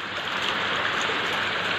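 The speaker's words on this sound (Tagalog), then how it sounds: "God, ang lakas pa ng ulan at saka" Heavy rain pours down during a flood at the Hagonoy market compound, a dense, loud, unbroken hiss of water that fills the whole moment with no voices.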